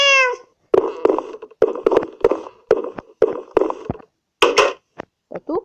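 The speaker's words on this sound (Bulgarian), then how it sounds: "Това е котката" A cat in the Minecraft video game meows repeatedly, a series of short, loud, close game-sound mews in a steady rhythm with gaps of silence between them.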